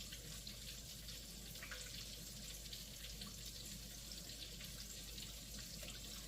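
Steady running tap water hitting a sink while hands are rinsed under it, a faint, continuous hiss with no pauses and no voices.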